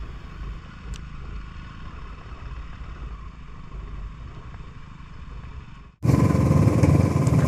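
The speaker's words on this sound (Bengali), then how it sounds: "অনেকক্ষণ ধরে কন্টিনিউ বাইক চালিয়ে যাচ্ছি" A motorcycle descending a zigzag mountain road in Arunachal Pradesh, from Bumla Pass toward Zemithang, a steady mid-level engine drone with road rumble that suddenly gives way to loud rushing wind noise.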